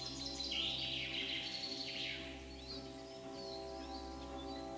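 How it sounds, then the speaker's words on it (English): Birds chirp and trill in a medieval countryside setting in the video game Kingdom Come: Deliverance II, with loud bursts of birdsong over a steady low ambient hum and no talking. "Somebody turned up the volume on the birds."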